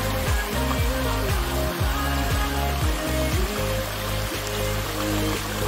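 Clear mountain stream water flows at the entrance to a valley in Gangwon-do, a continuous gurgling and trickling rush heard up close, with no voices, though a low buzzing drone runs underneath.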